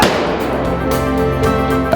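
Gunfire from a staged shoot-out on a period drama film set: dense, loud, sustained blasts and thuds with a sharp crack about midway, heard close with no talking.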